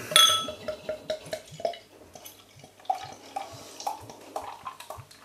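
Slottskällans Imperial Stout, a Swedish craft beer, poured from a bottle into a glass: close, rhythmic glugging and splashing with a few light glassy clinks, no talking.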